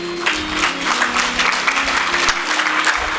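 A spiritual gathering audience claps in a loud, dense burst of applause that continues steadily throughout, with a sustained musical tone beneath it.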